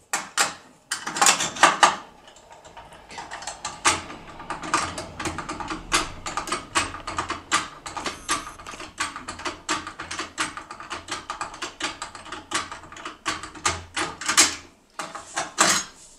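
Metal clicks, ticks and small rattles come from impression-picking an Atra 6+6 lock as a tool works inside it. The close, busy bursts are irregular, with brief pauses between groups.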